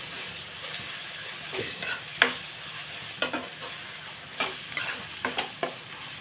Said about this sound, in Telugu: మనం ఇందులో అల్లం వెల్లుల్లి పేస్ట్ వేసేసుకున్నామండి. ఇది కూడా పచ్చివాసన పోయేదాకా బాగా వేసుకుందాం.